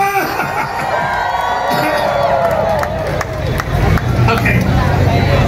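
Rally crowd cheering, shouting and clapping together, a loud, dense roar of many voices with whoops and scattered claps, close and continuous with a voice calling out above it.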